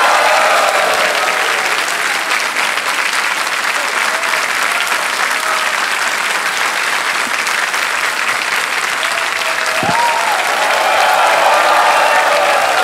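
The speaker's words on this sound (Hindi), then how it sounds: "ताली बज जाए इनके लिए" Studio audience on the KBC Season 11 quiz show bursts into loud, sustained applause, a steady wash of clapping that holds for the whole stretch with no talk over it.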